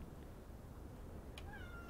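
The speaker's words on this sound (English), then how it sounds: "It's our new young cat." A young cat gives a short, faint meow alone against a low background hum, with a brief higher-pitched mew near the end.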